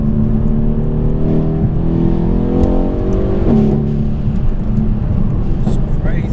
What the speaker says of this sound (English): you're planting it and it just shoots forward, man